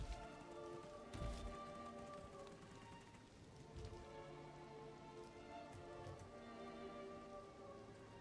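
Steady rain falls in Elden Ring's Altus area near the Woodfolk Ruins, a soft, continuous patter of drops on surfaces with a few brief, slightly louder splashes and no talking.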